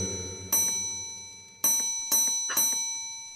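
Doug's bell gives four bright, ringing strikes, each decaying slowly, the first alone and the last three in quicker succession, clear and close against a quiet room.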